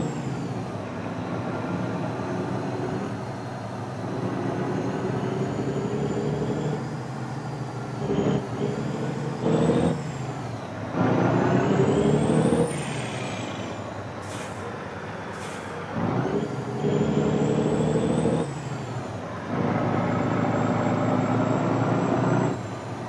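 An International 9800 truck in American Truck Simulator rumbles with a steady diesel drone, repeatedly broken by sharp hissing bursts of air brakes at irregular intervals over more than twenty seconds.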